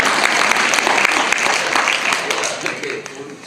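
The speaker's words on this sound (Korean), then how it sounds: "얘한테 박수 한번 쳐주세요." A church congregation applauds in a hall, a loud, continuous wash of clapping with distinct sharp claps that gradually fades toward the end.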